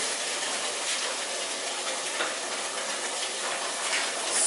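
Hot oil spitting loudly in a pot while efo riro cooks, giving a continuous bright hiss and sputter at a steady level with no talk.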